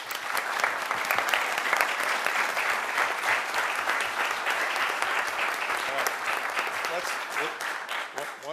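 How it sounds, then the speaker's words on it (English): Sustained audience applause fills a commission meeting room, steady and dense throughout with no break, the clapping close and loud from start to finish. "Let's give him a round of applause."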